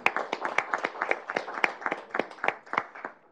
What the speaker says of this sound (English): I think a round of applause is appropriate.